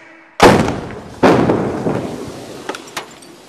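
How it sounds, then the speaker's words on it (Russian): Two sharp, loud blasts about a second apart, each followed by a rumbling decay, with smaller pops and crackles trailing afterward. "Взрыв!"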